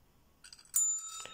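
A notification bell chime rings out once, bright and metallic, after a short clicking lead-in, with a clear ringing tone that lingers briefly before fading.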